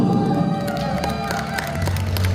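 An audience at a Hongseong County village-development council award ceremony applauds and cheers as an honoree is called to the stage. The crowd noise is loud and continuous, with claps scattered through a cheering roar and music faintly underneath.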